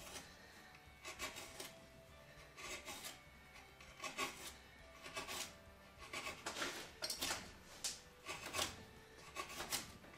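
A homemade semicircular carving chisel shaves wood in a series of short, rasping strokes, each a brief scraping burst with small pauses between, close and fairly quiet.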